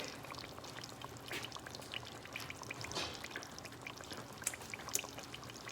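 Grease poured into a kitchen sink makes a faint, steady trickling pour with small splashing drips, quiet and unaccompanied.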